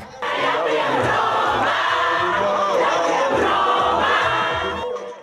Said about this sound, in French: leurs chansons sont reprises en chœur par des fans déchaînés